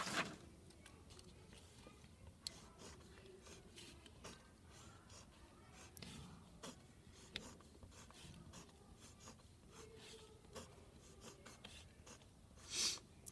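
Pen or pencil scratching on paper while drawing six models by hand for a fractions math problem: faint, continuous close-up scribbling strokes with small taps and pauses, quiet and steady.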